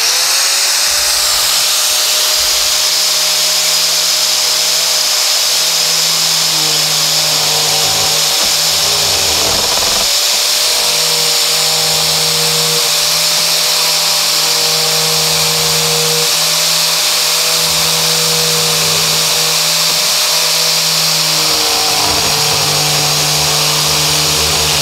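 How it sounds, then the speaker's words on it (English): Electric grinder carving a wooden kuksa cup, a continuous loud high whine with steady tonal hum and gritty abrasive hiss as the wood is shaped, close and uninterrupted. "So switching the grinder on."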